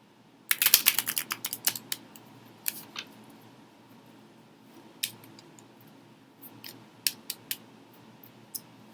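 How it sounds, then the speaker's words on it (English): Tarot cards are shuffled close up in quick bursts of crisp, papery clicks and flutters, one dense flurry followed by scattered single snaps against a quiet background. "So I'm going to shuffle these together."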